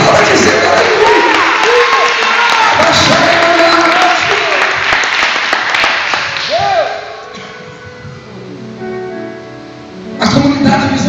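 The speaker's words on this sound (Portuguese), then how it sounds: "Se é Ele que você está aplaudindo, aplauda dizendo aleluia." Church congregation applauding and cheering at a tenth-anniversary service, loud dense clapping with shouts and voices mixed in, fading briefly before rising again.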